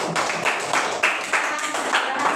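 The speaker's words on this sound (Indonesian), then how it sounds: "Tepuk tangan untuk kelompok 3." A class of students claps for a group presentation in a classroom lesson: a short, steady burst of hand claps with a few louder peaks, heard with light voices in the background.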